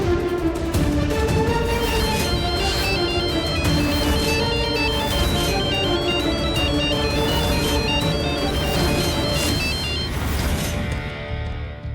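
A phone ringtone plays on and on unanswered, a loud repeating electronic melody of bright tones that continues steadily for about twelve seconds before cutting off.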